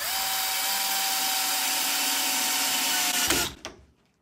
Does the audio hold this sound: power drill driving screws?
yes